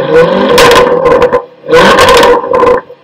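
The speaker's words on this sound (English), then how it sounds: "It has a supercharged V8 that produces 575 horsepower, which makes a loud and epic sound." Supercharged 575-horsepower V8 in a Jaguar F-Type SVR revving hard in two loud bursts, each roaring up then dropping away, with a short lull between them.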